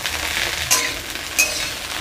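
Cauliflower florets fry in a pan for a roast, giving a steady close sizzle with two brief louder spits of hot oil and no voices.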